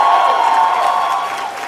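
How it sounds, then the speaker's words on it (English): A crowd at a college speech event erupts in booming applause and cheering, a steady loud wash of clapping and voices filling the room without a break. "the booming applause comes from the rafters"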